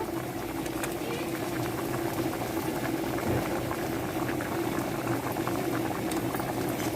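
Dal simmers with tomatoes in a pot, a loud, close and continuous bubbling boil that holds steady throughout with no talk.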